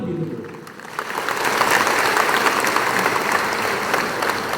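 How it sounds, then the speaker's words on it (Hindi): Loud, sustained applause from a crowd at a yarn distribution community event in Amarpur, a dense wash of clapping that swells after the first second and holds steady throughout. "तो जोर से ताली दो।"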